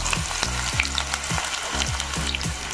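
Onion frying in hot mustard oil, a steady loud sizzle with crackling spatter, broken by a few low scraping strokes of a spoon stirring in the pan.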